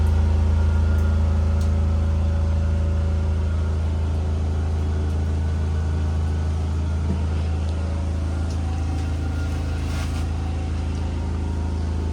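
A diesel generator with 16 hours of use runs aboard a 2021 Forest River Sunseeker motorhome on a Mercedes diesel chassis, giving a steady low hum that holds evenly throughout with no talk.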